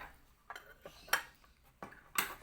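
A metal spoon clinks and taps lightly among kitchen tools set out for a school acid-base experiment with turmeric and dragon fruit, giving a few soft, irregular, close knocks in a quiet room.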